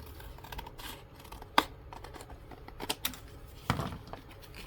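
Scissors trim paper down to size for a journal tag, with a few crisp close snips and small paper rustles in a quiet room and no talk.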